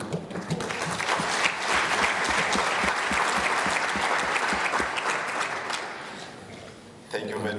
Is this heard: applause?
yes